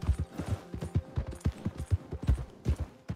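A horse's hooves in the Red Dead Redemption video game, a fast, close clip-clop with an irregular galloping beat that keeps going without talk.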